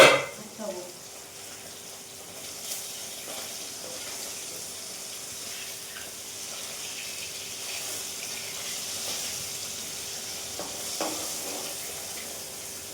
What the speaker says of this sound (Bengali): ট্যাংরা মাছ ভাজতে গেলে না ছিটকাবে